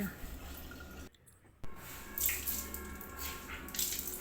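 Washed clothes wrung out by hand and dropped into a bucket: steady close splashing and dripping water, a brief pause, then wet squishing and trickling resumes.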